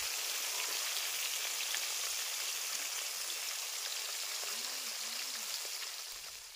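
Pieces of rohu fish fry in hot oil, four at a time, giving a steady, dense sizzling hiss that barely changes and fades a little at the end.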